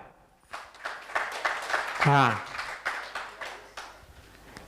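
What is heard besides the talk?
audience applause for the correct answer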